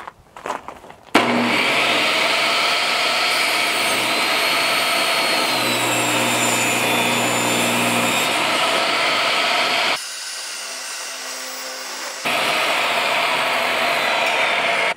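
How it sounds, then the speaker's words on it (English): A table saw ripping rough-sawn lumber along the fence, a loud steady whine starting up sharply, dipping briefly as the blade runs lighter, then rising again under load, with no speech. "I'm just gonna square up our fence, lock it in place, and we'll make two rips."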